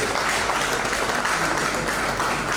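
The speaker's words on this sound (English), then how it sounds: "can you please give all our cabinet members a round of applause?" Steady applause from an audience at a Lagos State government press briefing on the 2025 budget, honouring cabinet members; a brief, continuous wash of clapping with no pause.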